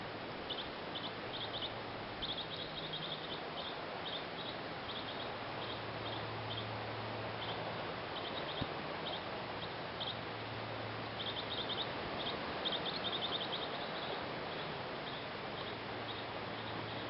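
Repeated high chirps and short bird calls on a forest trail in British Columbia, scattered throughout, soft and fairly distant over a steady outdoor hiss, with no talking.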